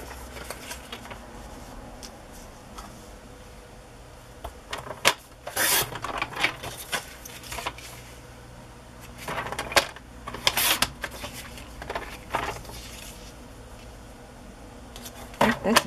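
Scissors or a blade cutting through paper ephemera for scrapbooking, giving intermittent rasping snips and rustles, close and fairly loud, with soft handling noise between the cuts.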